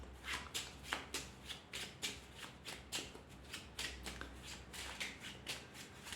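A deck of traditional playing cards is shuffled close up in a quiet room, giving a steady series of soft riffling and snapping bursts at roughly regular intervals, with no talking.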